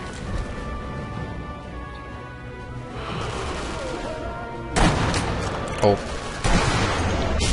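Sniper rifle shots in the World War II shooter Sniper Elite V2, a few sharp loud cracks standing out over a steady battle din while someone talks over the gameplay.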